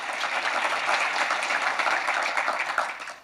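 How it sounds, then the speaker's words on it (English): Steady applause from a lecture hall audience welcoming journalist David Ignatius, a dense, even wash of many hands clapping that carries on and starts to taper at the end. "You can clap if you want."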